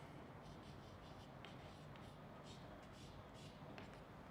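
A physics solution being written out by hand: soft, quiet scratching strokes in short repeated bursts over a steady background hiss.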